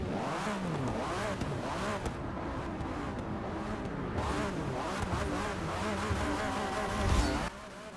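A Porsche engine in Forza Motorsport 6 revs hard, with rising and falling whining sweeps and a droning buzz that holds steady and loud before cutting off near the end.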